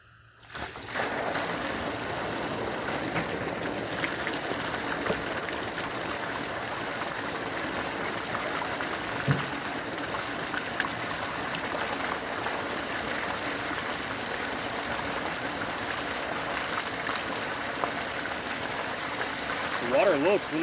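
Water pours steadily from a drained Taylor wood boiler after the plug is pulled, a continuous rushing, trickling flow that holds level from start to finish, with faint speech-like murmurs underneath.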